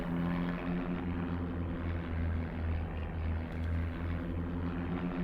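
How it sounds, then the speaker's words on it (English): A bomber aircraft in the video game The Great War: Western Front drones with a steady, loud propeller engine hum, continuous and alone. "So let's see if this bomber hits anything."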